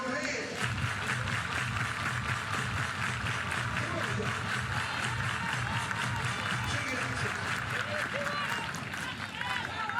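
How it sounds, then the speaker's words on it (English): Crowd in the stands at a college softball game, Oklahoma Sooners versus Missouri Tigers, clapping hands in a steady sustained wash of applause, with voices mixed in. "Everybody clap your hands."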